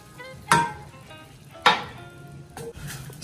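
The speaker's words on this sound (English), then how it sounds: "Simmer muna natin yung ebap guys para ma-reduce siya by half." Evaporated milk simmering in a pan for a baked jacket potato ala royale, a soft steady bubbling sizzle broken by two sharp clinks of a utensil against the pan, close and alone.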